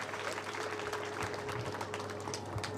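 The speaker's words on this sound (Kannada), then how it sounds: "ಮತ್ತೊಮ್ಮೆ ಜೋರಾದ ಚಪ್ಪಾಳೆಯೊಂದಿಗೆ ಅಭಿನಂದನೆಗಳನ್ನು ಸಲ್ಲಿಸೋಣ" An audience at an award ceremony claps steadily, a dense and even patter of many hands heard from moderately far under a low hum.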